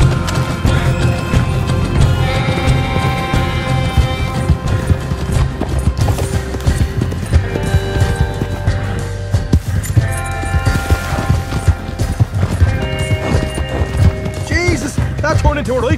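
Hooves clip-clop in a fast, steady gallop as a horse runs in a video game, loud and continuous under a music bed, with voices talking over it.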